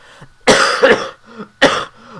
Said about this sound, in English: while I cough